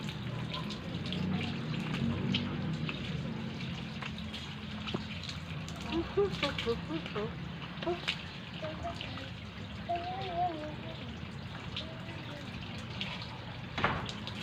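Water gushes from a garden hose outdoors on a hot day, a steady rushing spray that runs throughout, close by, while people talk and laugh over it.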